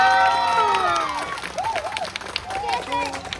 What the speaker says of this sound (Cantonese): 郭靖婷，俾佢掌聲。